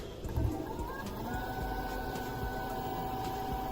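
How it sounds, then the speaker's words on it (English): A Denzel D7500 IPMSM electric motor turns at about 100 volts, giving a steady, fairly loud mechanical hum with rising whining tones and a constant low rumble. "Thanks to the built-in rotor magnets, the motor works very quietly."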